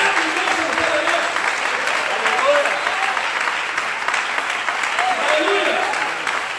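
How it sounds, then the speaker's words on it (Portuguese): A church congregation claps loudly and continuously during a sermon, a thick, even wash of applause from a large crowd. "Aplaudir a Jesus que fosse você."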